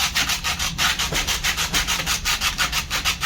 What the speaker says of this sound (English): Now we're going to use a medium gauge sandpaper, get the form a little bit better